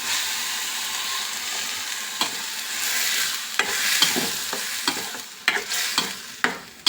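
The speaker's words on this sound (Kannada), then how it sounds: "ಈಗ ಟೊಮೆಟೊ ಹುಣಸೆಹಣ್ಣು ಪ್ಯೂರಿ ಹಾಕ್ಕೊಬಿಡೋಣ." Tomato and tamarind puree goes into a sizzling crab sukka masala, a steady frying hiss followed by a series of sharp scraping stirs and clacks of a spoon against the pan.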